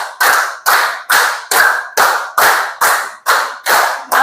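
Classroom students clap together in a steady, loud rhythm, nine even bursts of overlapping hand claps roughly half a second apart, each crisp and close, with no voices.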